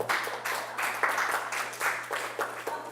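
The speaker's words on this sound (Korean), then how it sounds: "우리 박수 한번 하겠습니다." A small audience at a church Bible study seminar gives a brief round of steady, rhythmic clapping in unison, moderately close and evenly paced, with no talking over it.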